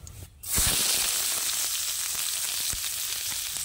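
Chopped onions sizzle and fry in hot white oil with cumin seeds in a wok, a steady close hiss that flares up loudly after a brief quiet start and holds, with a few soft stirring clicks.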